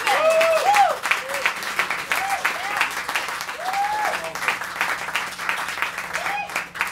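Sustained audience applause at a live band concert after the drummer is introduced, steady dense clapping with some cheering voices mixed in across the whole stretch.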